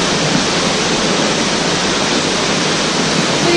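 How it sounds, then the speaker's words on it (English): A waterfall roars near the top of the falls, a loud, steady broadband rushing of water with no pauses. "And now we are almost at the top of the waterfall."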